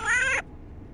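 A pet cat gives a single short, clear meow close by, less than half a second long, then quiet room tone.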